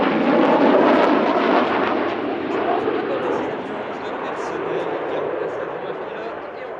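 Two Dassault Rafale B fighter jets from the 4th Fighter Wing at Saint-Dizier roar past at the Air Legend 2023 airshow, a loud broad rumbling jet roar that peaks early then slowly fades, with a commentator talking over it.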